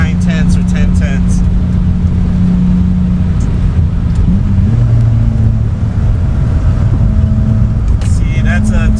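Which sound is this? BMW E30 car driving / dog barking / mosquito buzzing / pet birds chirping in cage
BMW E30 car driving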